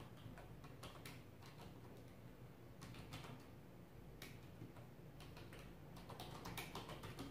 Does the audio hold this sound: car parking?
no